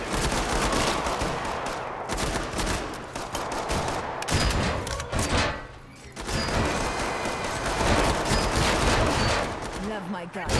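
Sustained, heavy gunfire in the video game Killing Floor 2, loud, continuous automatic volleys with crashing impacts and a brief lull midway.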